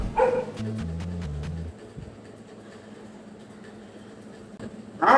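A dog barks in a dark horror video game, with short barks at the start and again at the end. A low tonal drone and quiet game ambience fill the gap between them.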